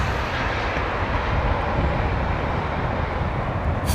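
An airliner near touchdown at London Heathrow, a dense continuous engine roar, loud and steady over four seconds with no voices.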